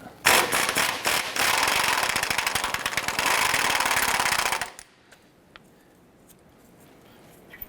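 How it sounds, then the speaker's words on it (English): An impact wrench with a 19mm socket rattles loose the lower ball joint nut on a 2008-2012 Honda Accord, a loud rapid hammering burst lasting about four seconds, then stopping abruptly into quiet shop ambience. "Using our 19mm socket, we're going to go ahead and loosen our lower ball joint nut."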